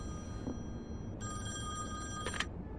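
In a video game, a telephone rings with a bright, sustained electronic bell tone that starts after a quiet moment and holds steadily, heard over a low background hum, with a faint clunk near the end.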